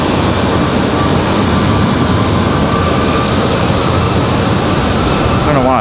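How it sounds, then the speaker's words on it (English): Airbus A321 airliner at Raleigh Durham airport, a loud continuous jet engine roar with broadband noise filling the whole stretch and no pauses. "Oh, it's not an E-175, excuse me, it's A321."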